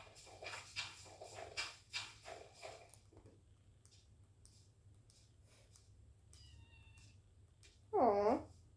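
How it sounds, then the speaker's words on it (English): A kitten gives one short, fairly loud meow near the end, after a quiet stretch of faint clicks and soft background rustling. "Aw, baby kitten."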